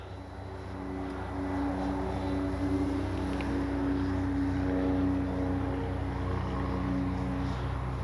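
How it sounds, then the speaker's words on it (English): A Hangar 9 J-3 Cub radio-controlled plane with a 10cc engine flies on its maiden flight, its steady, faint, distant droning hum holding for the whole stretch with no talk. "Oh man, what a sweet flying plane."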